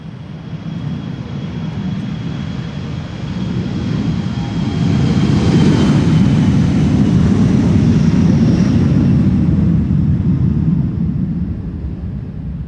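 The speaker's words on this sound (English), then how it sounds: "That was KLM flight 1045 to Birmingham and Embraer 175." KLM Embraer 175 airliner taking off from Schiphol's Polderbaan runway, a broad jet roar swelling as it passes fairly close, then holding steady and slowly easing, heard alone.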